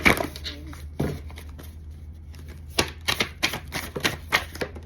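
Quick papery riffles and soft flicks of tarot cards being shuffled come in short bursts, louder near the end, with a low steady hum underneath.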